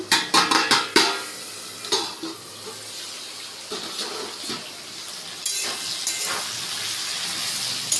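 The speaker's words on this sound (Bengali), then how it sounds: "এখন আলু ভাজছি" Potatoes frying in a pan, opening with several sharp utensil clanks and stirring knocks, then settling into a steady, close sizzle that continues throughout.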